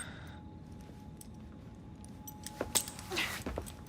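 Keys jangling as they are handed over in Assassin's Creed Syndicate: a short metallic jingle of a key bunch, fairly close but quiet, over a low room hum.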